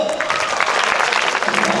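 An audience at a diocesan-level Sunday school camp in Dornakal claps in a brief, dense burst, with voices mixed in under the applause.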